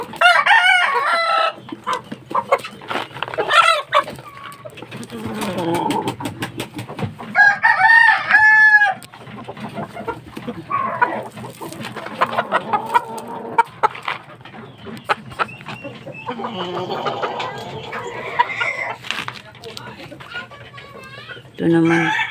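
Fighting roosters crow and cluck close by in a farm setting, with several drawn-out crows and scattered clucks, while a person talks intermittently between them.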